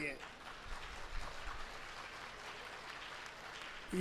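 Sustained audience applause at a Tamil comedy debate, a steady wash of clapping at moderate volume from start to finish.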